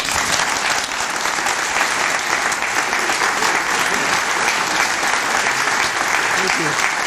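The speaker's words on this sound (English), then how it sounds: "Please join me in applauding this most eminent historian." Loud, sustained audience applause for a historian receiving an award, a dense, even wash of clapping filling the whole stretch without a break.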